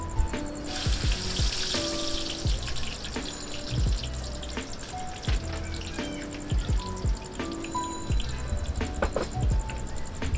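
Onions frying in hot oil for a chicken polao, a steady close sizzle with repeated scraping and stirring knocks throughout, no voices.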